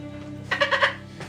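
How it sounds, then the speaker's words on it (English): Goats bleat once in a short, wavering burst, fairly close and loud over a low steady hum, in a fantasy tabletop role-playing session. "Is that the noise the goats make?"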